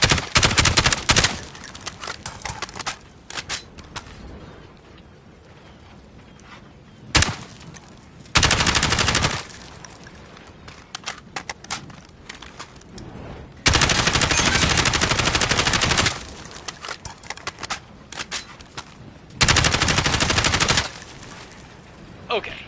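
Long full-auto bursts from a SCAR rifle in Call of Duty, each string of rapid shots running several seconds and emptying the magazine, loud and close, separated by shorter gaps of quieter intermittent fire.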